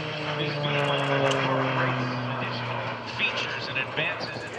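A T-6C Texan II turboprop trainer climbs away at an airshow, its steady engine drone loud and sustained with a sliding tone that fades slightly as it pulls away, under a commentator's voice.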